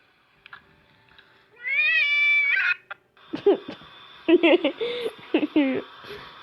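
A cat meows several times, drawn-out rising and falling calls, with people chatting and laughing around it.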